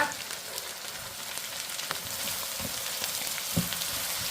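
Beef chunks with large bones fry in a pan with palm sugar (panutsa), a steady moderate sizzle with occasional crackles and stirring clicks, no talking.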